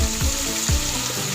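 Chinese cabbage sizzles in a hot pan with soy sauce while pansit bihon, Ilocano style, is cooked at home; a steady frying hiss runs throughout, with a couple of short low thumps as the greens are stirred.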